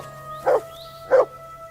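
Two short, close dog barks spaced about half a second apart, from a dog in the video game Kingdom Come Deliverance 2, set over a steady low game hum with no talking.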